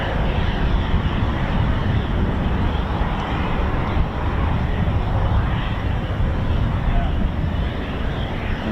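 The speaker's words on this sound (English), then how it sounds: "we have Typhoons taxiing already" Eurofighter Typhoon FGR4 jets taxiing at RAF Coningsby, with a steady, loud broadband engine roar that holds constant throughout and is mixed with gusting wind buffeting.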